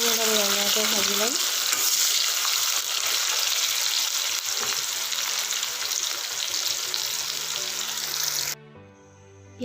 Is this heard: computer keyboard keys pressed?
no